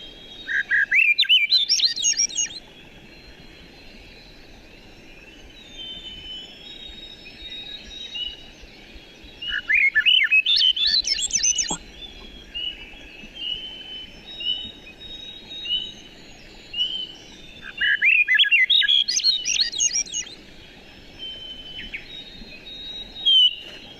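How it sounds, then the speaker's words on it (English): Swainson's thrush song in Half Moon Bay: three clear, flute-like phrases spiral upward in pitch, each about two seconds long and repeated at intervals of roughly eight seconds, with a few softer calls between them over a quiet background. "Swainson's thrushes, their song has a flute-like quality to them."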